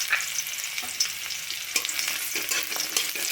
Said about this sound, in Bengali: পেঁয়াজ আর লঙ্কা তেলে ভাজা ভাজা করে নিয়েছি।